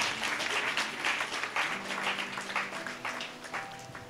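A church congregation at a Sunday service claps in a steady, fairly loud burst of applause that lasts throughout, with a sustained instrumental tone underneath.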